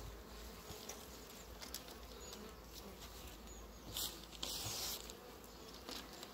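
Honeybees buzz around hive colonies being fed in spring, a steady, quiet droning hum with a few louder passes as single bees fly close by.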